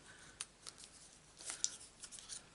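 Scissors snipping through card stock during a Stampin' Up papercraft project, a few short, crisp cuts spaced irregularly, close by and fairly quiet.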